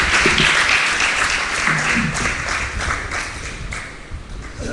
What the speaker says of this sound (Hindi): अब ताली बजा सकते हो।